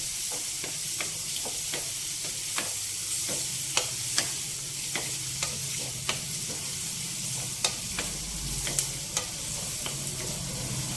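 Onions fry in a pan for a vegetable and paneer curry, a steady close sizzle broken by frequent sharp scraping clicks as a utensil stirs them, with no talking.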